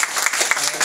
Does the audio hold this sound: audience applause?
yes